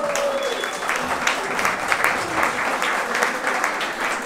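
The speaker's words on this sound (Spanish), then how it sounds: "Un aplauso para ustedes mismos." Audience applause at an award ceremony honoring successful women at a consulate in Miami: dense, sustained clapping from a crowd, steady and fairly loud for the whole stretch, with a faint voice briefly in the background.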